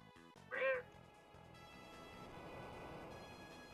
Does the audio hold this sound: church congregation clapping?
no